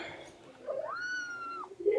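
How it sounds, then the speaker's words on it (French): A mother cat gives one clear, drawn-out meow close by, next to her two kittens in a cardboard box indoors. A short noise rises at the end. "il y a toujours la maman chat ici"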